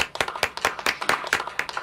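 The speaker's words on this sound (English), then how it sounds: "Everybody clap your hands." A group of people clapping their hands in a fairly regular beat, about a dozen sharp claps in under two seconds, close and distinct with a light crowd murmur beneath.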